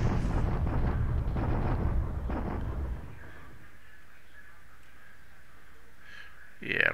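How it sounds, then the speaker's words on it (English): Deep rumbling naval bombardment explosions in the war strategy game War in the Pacific, a loud sustained roar that fades to a quiet hiss before another sharp burst at the end. "I'm just doing bombardments there"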